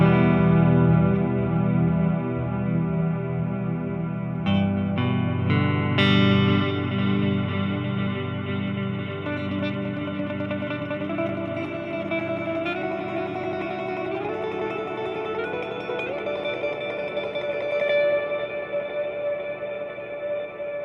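Electric guitar through an effects pedal mode with very long feedback and rich modulation, sustained chords smearing into a dense, wavering, reverberant wash that drifts in pitch over about twenty seconds, with no voices.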